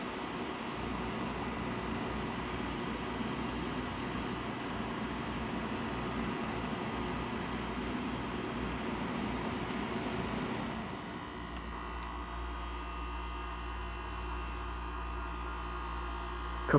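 An RCA 5000 BTU window air conditioner runs with a steady electrical hum and airy whoosh, then near the end the sound drops into a lower, heavier drone as the compressor runs alone.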